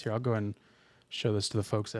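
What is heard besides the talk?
No distinct noise like a dog, phone or traffic.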